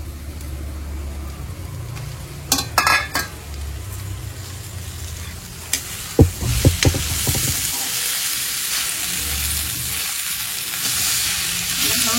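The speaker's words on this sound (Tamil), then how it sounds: "வெங்காயமும் தக்காளியும் நல்லா வதங்கிடுச்சு. அந்த கருவாடை போடுறேன்" Dried fish sizzling in a pan with softened onion, tomato and curry leaves, a steady low frying hiss with a few stirring clatters and scrapes partway through.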